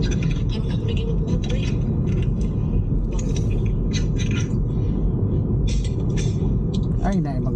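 Small cars pass on a road in Davao City, their engine rumble and tyre noise forming a steady, loud wash, while someone talks over it throughout.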